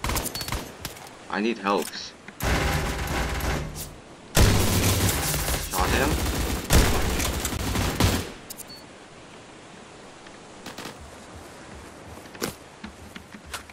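Surviv.io gunfire: rapid bursts and volleys of shots crowd the first eight seconds, loud and close, then fade to a quiet stretch. A player talks anxiously during the shooting.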